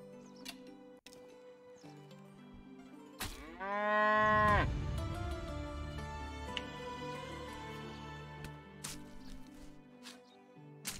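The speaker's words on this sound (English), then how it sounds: "There's a cow." A cow in the medieval farming game Medieval Dynasty lets out one loud, drawn-out moo with rising harmonics, standing out over a steady game soundscape of ambient tones and soft ticks.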